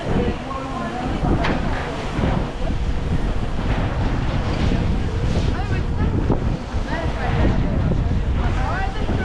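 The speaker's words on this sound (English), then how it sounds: "That breeze feels so good. It's so nice and cool." A sea breeze buffets the microphone on a cruise ship excursion boat off Costa Maya, Mexico, a continuous loud roaring rush with faint voices mixed in underneath.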